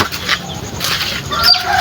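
Chickens clucking close by, with a busy, noisy background of overlapping sounds throughout.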